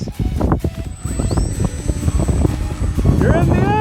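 A Flyzone Sensei FS radio-controlled airplane takes off in a snowstorm, its small electric motor whining up in pitch and fading, heard through wind buffeting on the microphone, while people talk and cheer nearby.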